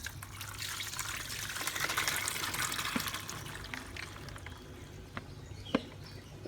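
Water drains from washed sprouts for bird food through a kitchen strainer with a steady, close hissing trickle. A few soft clinks and drips are heard near the end.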